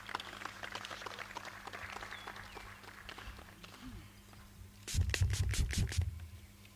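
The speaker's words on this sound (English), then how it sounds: "Please give him a round of applause as he comes on stage" Short burst of applause from an audience at an award ceremony for a cartoon festival, clapping swelling suddenly near the end after a stretch of quiet room noise, moderately loud and fairly close.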